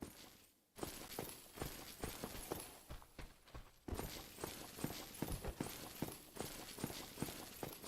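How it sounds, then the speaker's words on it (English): Footsteps in the video game Dark Souls Remastered, heard as a steady run of hard, clattering steps with a brief pause in the middle, loud and close against a noisy backdrop. "I'm hearing footsteps."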